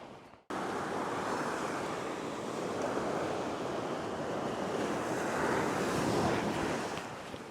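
Ocean waves break on a fishing beach as a loud, continuous rush of surf with wind buffeting the microphone, starting abruptly after a brief quiet moment.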